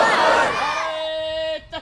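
A large crowd at a religious gathering roars back in answer to the chant Naara-e-Takbeer, a loud, massed shout that swells at once, then thins into a sustained tonal call before cutting off.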